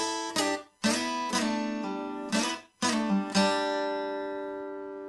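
Acoustic guitar playing the solo of a song, a few plucked and slid notes and short strummed chords with ringing sustain, close and clear with no voices.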